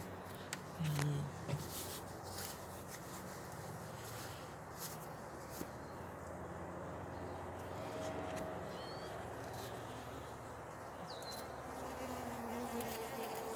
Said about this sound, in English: there's a couple of guard bees watching